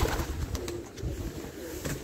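Pigeons coo softly and repeatedly in a loft housing young birds, low burbling calls overlapping at close range with no talk.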